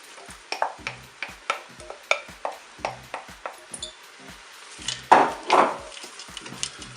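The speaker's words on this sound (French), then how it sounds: "Je vais ajouter les poireaux" Leeks tipped into a Cookeo multicooker on its browning setting, with a regular series of hard clinking knocks from a utensil against the pot and a quiet sizzle beneath, close-up with no speech.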